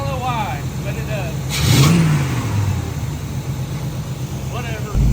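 An Oldsmobile Cutlass rescued from a junkyard revs its engine as the gas is hit, a low mid-pitched rise swelling near the start and settling back, with a hum running throughout and a person talking over parts of it.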